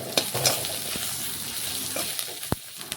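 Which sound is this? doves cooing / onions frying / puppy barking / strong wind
onions frying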